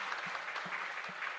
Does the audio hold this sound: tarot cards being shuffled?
no